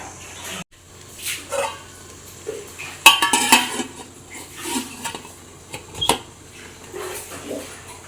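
A metal idli tray set into a steamer pot on a gas stove, giving a few sharp clanks and rattles of metal against metal, close and moderately loud, with quiet gaps between.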